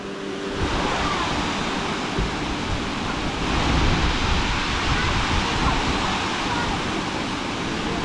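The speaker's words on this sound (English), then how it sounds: "You know what the name of this waterfall is?" Skalkaho Falls on the Montana side of the Nez Perce trail roars as a steady broadband rush of falling water, close and loud, with voices briefly audible near the start.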